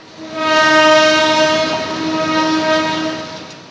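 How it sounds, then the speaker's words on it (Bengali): A passenger train runs past loudly, its sustained horn tones ringing steadily over the rumble of the carriages. The sound swells and holds close by for several seconds, with no voices present. "ট্রেন ছুটছে।"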